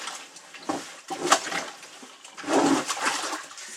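Pickling water from a coyote hide dumped out of a heavy container, pouring and splashing in uneven gushes close by for a few seconds.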